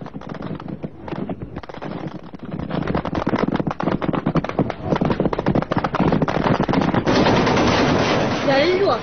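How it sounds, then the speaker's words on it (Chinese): Rapid bursts of gunfire from ship-mounted weapons during the 1988 Spratly Islands naval clash, dense and continuous automatic fire that swells louder after the first couple of seconds and runs the whole length with no talk. "其舰船上的各种武器也疯狂地向我登交队员压了"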